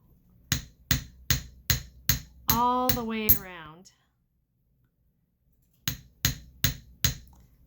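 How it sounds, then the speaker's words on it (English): A hammer taps a metal earring in a steady run of sharp, evenly spaced strikes, pausing while a person speaks briefly, then resuming with several more close, crisp taps. "So I'm going to start just doing little hammers"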